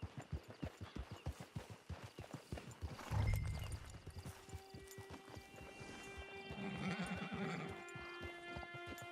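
Horse hooves clip-clop in a steady rhythm in Red Dead Redemption Online, broken by a loud, close neigh, then a whinny rings over a soft game ambience.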